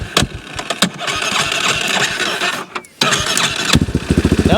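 A small engine cranks and sputters with sharp pops, then catches after being unchoked, settling into a rapid, close, pulsing idle.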